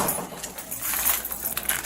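A bunch of keys jangles and clinks close by at a store counter, an irregular rattling that keeps going throughout with no voices.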